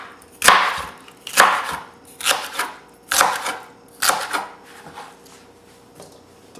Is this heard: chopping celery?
yes